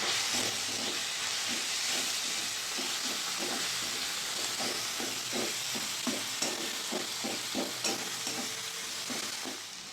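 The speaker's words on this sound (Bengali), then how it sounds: "হলুদের গুঁড়ো দিয়ে দেবো কাশ্মীরি লঙ্কার গুঁড়ো দিয়ে দেবো স্বাদ মতন চিনি ভালো করে মশলাটা কষিয়ে নেব" A spice paste of turmeric and Kashmiri chilli powder sizzling in hot oil with a steady frying hiss, while a spoon stirs it in rhythmic scraping strokes, close and continuous.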